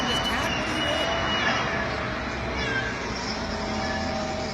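A cat meows against a steady background din of traffic-like noise, with the calls fairly faint and partly buried in the continuous rumble.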